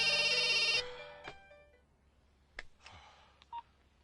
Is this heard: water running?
no